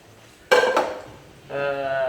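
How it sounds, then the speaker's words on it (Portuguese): A large metal cooking pot is picked up and set down with a sharp clank and brief rattle, followed after a pause by a ringing metallic scrape; a voice is faintly present. "eu vou pegar uma panela maior aqui"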